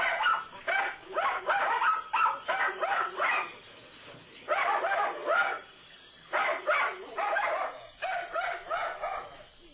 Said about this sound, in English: it's puppy chaos here at the Henry Rollins Heidi May podcast